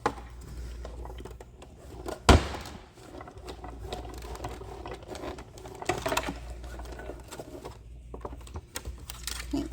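A die-cutting machine pressing a cutting plate sandwich through its rollers, giving a steady close mechanical whirring and grinding with one sharp thump early on, and no talking.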